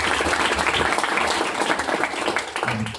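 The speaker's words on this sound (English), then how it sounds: "Maybe another round of applause" Audience applause at a hardware startup meetup, a close, full burst of clapping that holds steady throughout, with a faint voice near the end.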